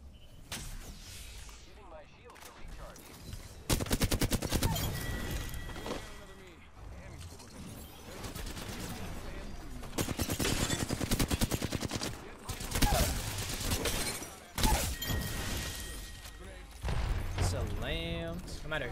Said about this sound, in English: Shooting that.